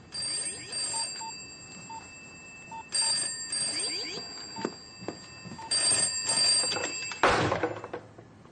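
A telephone rings in repeated electronic bursts in a British village detective drama, several clear rings in a row with brief gaps, while quiet voices speak underneath.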